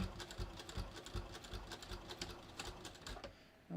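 A sewing machine stitches in quick, uneven bursts near the end of its thread while a bathrobe welt pocket is finished, the needle rattling close and fairly quiet before stopping abruptly.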